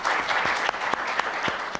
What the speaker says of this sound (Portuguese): Vamos acolher também o nosso doutorando com uma salva de palmas